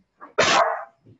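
A dog gives a single loud, close bark, preceded by a brief softer yip and followed by a faint low grunt.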